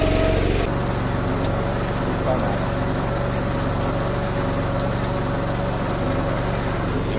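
A concrete mixer churning 250 litres of concrete, a steady droning motor hum with a rhythmic rumble from the turning drum, close and continuous throughout.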